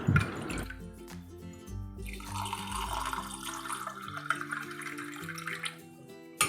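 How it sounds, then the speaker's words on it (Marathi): Cold water pours into a raw mango panha drink made with mango pulp, a soft, steady splash over a few seconds beneath background music. "थंडगार पाणी घालायचं आहे आपल्याला"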